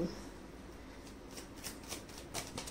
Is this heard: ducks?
no